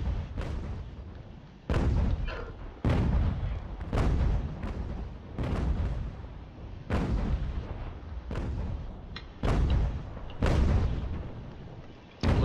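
Musket and cannon fire in the strategy game Ultimate General: American Revolution, a series of heavy booming volleys spaced a second or two apart, each with a sharp attack and a long rumbling decay.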